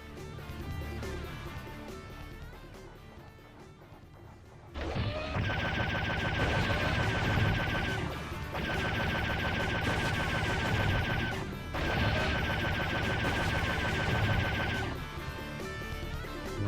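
Gunfire from a shotgun and a rocket launcher rings out in Serious Sam Classic: The First Encounter, with loud repeated bursts of blasts and explosions in dense volleys after a quieter opening stretch, and brief pauses between the waves.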